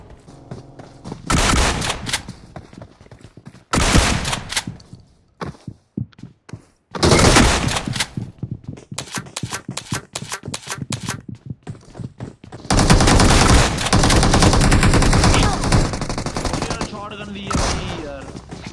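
Loud bursts of shotgun and automatic gunfire in the battle royale game BGMI, repeated blasts in clusters with short quiet gaps, heavy sustained firing near the end.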